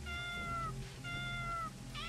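A cat meows twice in the video game Diaries of a Spaceport Janitor, two drawn-out, evenly spaced meows over a steady hum of game background sound.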